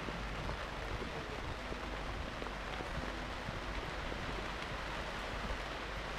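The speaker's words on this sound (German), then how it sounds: "Mein Gott, regnet das." Steady heavy rain pours down at an outdoor show-jumping event in Donaueschingen, a dense, even hiss of drops drumming on surfaces that continues throughout without any voices.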